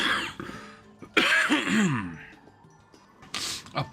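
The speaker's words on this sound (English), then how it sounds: "Apologies for all of the coughing too." Coughing and throat clearing from a streamer playing .hack//Outbreak, close and loud: a harsh throat clear, then several rough coughs with gasping breaths in between, and a final short cough.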